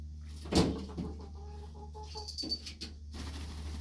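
Free-ranging backyard chickens cluck and squawk near and clear, with one loud sharp squawk early followed by a run of softer rhythmic clucks over a steady low background hum.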